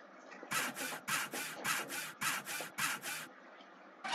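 Rhythmic rasping strokes of a file worked against a door in a stickman video game, about eight quick scrapes in a row, crisp and close with no talk over them.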